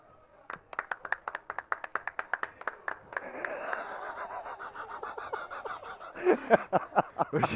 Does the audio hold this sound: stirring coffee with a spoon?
no